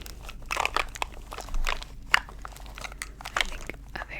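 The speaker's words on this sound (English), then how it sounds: "a very underrated trigger is makeup shuffling and rummaging" Makeup items are rummaged and shuffled in a small bag for ASMR: close, crisp clicks, crinkles and rattles in irregular bursts over a quiet background, with no voices.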